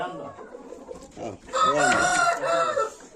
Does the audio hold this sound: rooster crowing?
yes